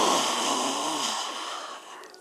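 In a yoga class, a long, forceful lion's-breath exhale rushes out with a breathy, rasping roar, loud at first and then fading over two seconds.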